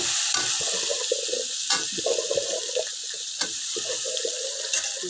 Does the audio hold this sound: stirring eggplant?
yes